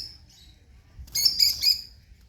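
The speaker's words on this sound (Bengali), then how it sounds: "আমি পাখিটার সাউন্ড পাচ্ছি ওইদিকে" A short burst of sharp, high chirping calls from a lovebird, a few rapid notes in quick succession after a faint whistle, over quiet background.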